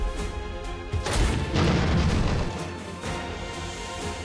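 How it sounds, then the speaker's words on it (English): A rumbling boom bursts out in the Ironclad Tactics steam-age battle game, swelling into a dense, loud blast with rolling low crashes and debris that tail off over a few seconds, with no voices over it. "it's going to explode like this"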